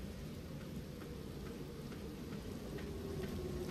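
Steady, dense rain falls in the video game Black Mirror, a continuous hiss with no pauses and no other sounds standing out.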